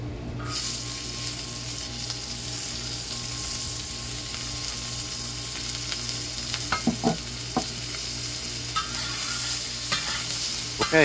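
Cabbage fries on a discada, producing a continuous close sizzle with occasional metallic scrapes and taps as it is stirred around, steady and moderately loud.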